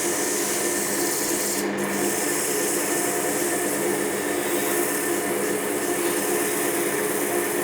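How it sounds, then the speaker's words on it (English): Abrasive paper at 180 grit rubbing against chestnut wood spinning on a woodturning lathe gives a steady, continuous rasping hiss with motor hum beneath, even and close throughout with no talk. "starting at the 180 grit here, and as I'm sanding this, you should be able to see the dust literally falling to the bed of the lathe"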